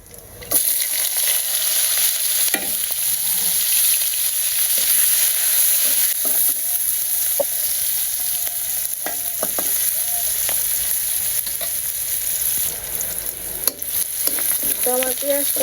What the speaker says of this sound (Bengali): তো আমার পেঁয়াজটা ভাজা হয়ে গেছে